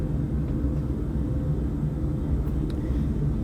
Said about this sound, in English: I'm playing some like airplane noise